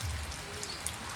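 Rain falls on a village farm in Botad, a dense steady hiss of drops on surfaces with a low rumble underneath, continuous and moderately loud with no voices.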